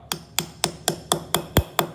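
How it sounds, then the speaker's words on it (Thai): Eight evenly spaced sharp hammer blows drive a nail through paper in a steady rhythm, close and crisp, one landing slightly heavier with a dull thud. "มีตะปูนะครับกับค้อนสักหนึ่งอันนะฮะ"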